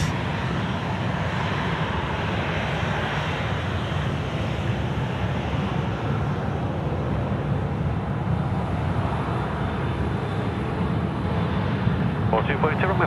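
A fixed-wing airliner on its takeoff roll at Sydney Airport, runway 34 left, in the evening: a steady, broad roaring engine rumble fills the whole stretch, blended with wind, while a person talks over it.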